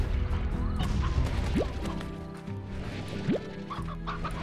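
Chickens cluck a few times in the video game Slime Rancher, with short rising calls over steady in-game background music.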